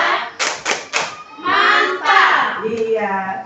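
A group of teachers at a school culture workshop perform the rhythmic 'tepuk mantap' clap chant, several sharp synchronized claps followed by voices chanting together, close and loud.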